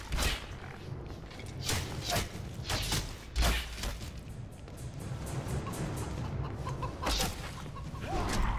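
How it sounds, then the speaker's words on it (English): Chickens clucking in the fantasy video game Hunted: The Demon's Forge, a series of short, faint clucks and squawks repeating at irregular intervals over quiet background. "Chicken, it must die."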